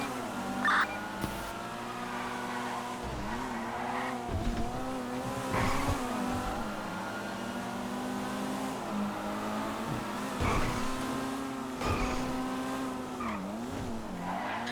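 Cars race through a police chase in the Yakuza video game, engines revving up and down while tires squeal repeatedly through turns, the screeches rising and falling over a steady motor roar.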